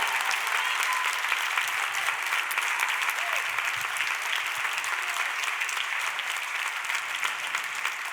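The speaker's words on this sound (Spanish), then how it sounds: "Si ese aplauso es para Dios, todos y fuerte" A church congregation claps loudly during a pastor's sermon, a dense, continuous round of applause filling the room with a few faint voices mixed in.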